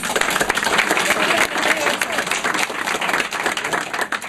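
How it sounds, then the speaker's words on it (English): Applause from a crowd gathered at a Franklin County, Nebraska political caucus in Hildreth, a dense, steady clatter of many hands that holds up through the whole stretch, with voices mixed in. "let's all clap for ourselves"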